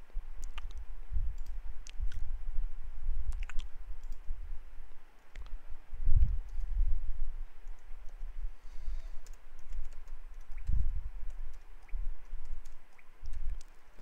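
Computer mouse clicks and key presses at a desk come as sparse, sharp, faint clicks spread over a quiet background hum.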